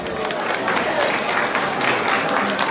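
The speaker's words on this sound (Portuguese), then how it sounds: "Uma salva de palmas para o Manuel Branco." A crowd at a village carnival mask contest in Agualva de Cima applauds a jury member, with loud, dense clapping holding steady for the whole stretch and no pauses.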